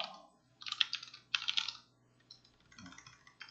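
Keystrokes on a computer keyboard as a cd command and folder path are typed in a terminal: two quick bursts of clicky typing, a pause, then a lighter run of taps, close and alone.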